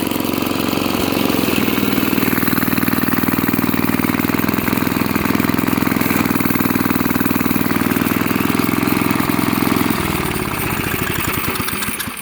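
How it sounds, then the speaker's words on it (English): A small 2 horsepower go-kart engine idles roughly and loudly up close in a continuous chugging drone, its note shifting and loosening near the end as the brake engages. "You can see that it's actually kind of idling hard on this little go-kart"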